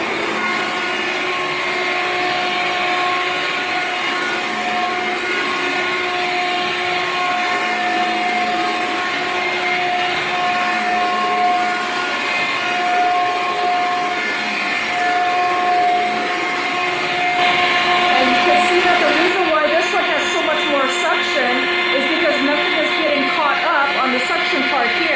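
A Hoover Air Cordless 20 Volt lithium-ion 2-in-1 deluxe stick vacuum cleaner runs with a steady motor whine for the whole stretch, with a brief shift in tone near the end and a voice talking over it.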